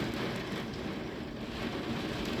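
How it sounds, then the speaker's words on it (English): Hail drums hard on a car windshield during a summer storm in Domžale, Slovenia, a dense, steady roar of impacts heard from inside the car with no break. "it's hailstorm on my windshield"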